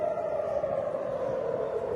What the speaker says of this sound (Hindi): सायरन्स बज रही हैं, आप सुन सकते हैं पहले।